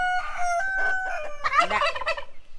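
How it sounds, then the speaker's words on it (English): A turkey gobbles close by, a rapid warbling burst of calls that rises into a louder, rattling flurry before trailing off. "everybody knows that's Junior, the turkey"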